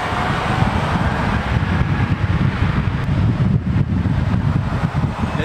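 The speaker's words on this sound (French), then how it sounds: "Il y a du vent." Strong wind buffets the microphone outdoors at the Morfontaine track, a steady, loud rumbling roar with gusty low-end bursts throughout and no voices.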